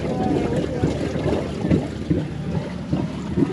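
An off-road truck idles on the Whipsaw Trail while overlanding, its exhaust giving a low, pulsing rumble with soft repeated throbs, close and steady.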